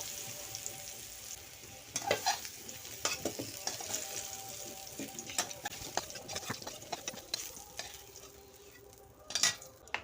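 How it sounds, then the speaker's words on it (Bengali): Papaya and potato sautéed together in a pan, a soft steady sizzle broken by repeated scraping stir strokes, quiet and close with no talk. "পেঁপেটাও ভালো করে আলুর সঙ্গে কষে নেব"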